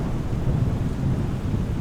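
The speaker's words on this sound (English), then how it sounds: "is it raining inside the hangar?" Rain and thunder in Microsoft Flight Simulator 2020, near a hangar at Notodden Airport, form a steady, loud wash of falling rain over a deep, rolling thunder rumble, with no talk.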